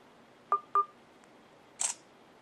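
Two quick electronic beeps followed a moment later by a short synthetic camera shutter click from a Samsung Intercept phone, crisp and close.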